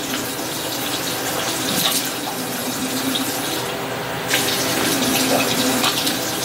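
A bathroom tap runs steadily into a sink as a flight attendant rinses her mouth, a constant close hiss of flowing water with a brief shift in the splash partway through and no talking.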